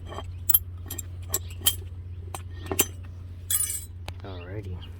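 Metal brake pad hardware clips pried off the front brakes of a Chrysler, giving a series of sharp, light metallic clinks and clicks close by over a low steady hum.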